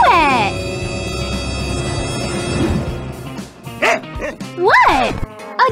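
A cartoon dog yips and barks a few times in quick bursts near the end, loud and close, following talking and sound effects.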